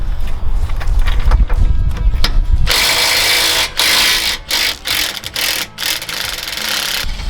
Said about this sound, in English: 19mm socket, just gonna go ahead and take it out.